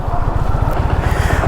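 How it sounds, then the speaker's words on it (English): A Dodge Challenger engine on its stock exhaust drones at a steady low pulse, a loud close rumble with fast regular throbbing and some wind buffeting over it. "now that stock sound of a Challenger I'm not a huge fan of."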